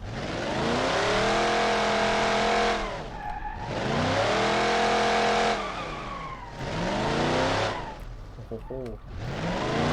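A muscle car engine in BeamNG.drive roars loudly through repeated revs and accelerations, three long pulls with brief lifts between, a deep throaty tone rising and falling, with faint tire squeal near the end.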